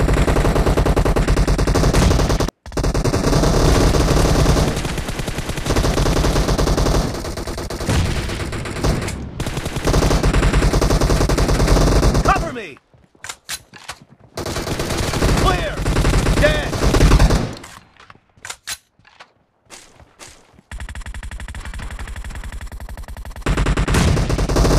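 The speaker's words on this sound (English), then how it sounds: "No mercy! Reloading! Cover me! Target down!" Automatic gunfire in the PUBG video game, sustained loud bursts of rapid shots with a few short pauses and a quieter gap of scattered single shots partway through.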